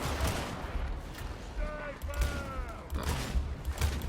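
Rapid bolter gunfire bursts out in Warhammer 40,000: Darktide amid constant game combat noise, sharp repeated shots in clusters over a busy background.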